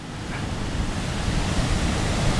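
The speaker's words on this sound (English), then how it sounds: "See the waves coming in" Steady, broad roar of surf with waves washing in and smashing into a harbour breakwater at Tarfaya, continuous and fairly loud with gusty wind mixed in; no voices.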